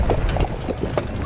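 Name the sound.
horse hooves clip-clopping on Mackinac Island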